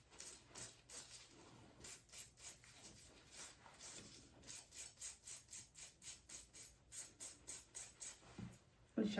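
A nail file rasps across a fingernail tip during a Russian manicure, in quick, even, rhythmic strokes heard close and soft, with a few faint words spoken.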